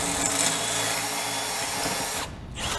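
A power drill with a 3/16 bit bores out the head of a rivet during a Skinz bumper and bash plate install, a loud, steady grinding whine that runs for about two seconds, then cuts off with a brief bump.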